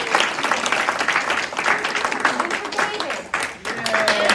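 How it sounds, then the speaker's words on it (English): A crowd applauding candidates at a state representative candidate forum, continuous close clapping from many hands with voices mixed in underneath, fading briefly near the end before picking back up. "Now let's give another big round of applause for our candidates."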